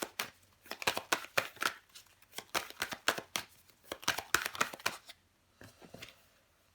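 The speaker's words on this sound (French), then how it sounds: "On va recouvrir des cartes pour vous les Capricornes." Tarot cards shuffled and turned over, giving a quick series of crisp papery snaps and flicks in uneven bursts, close up and fairly quiet, tapering off toward the end with no talking.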